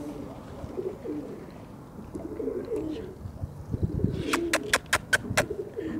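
High flyer pigeons cooing on a rooftop, low repeated throaty coos near and moderately loud over a steady outdoor background, with a brief run of sharp chirps near the end.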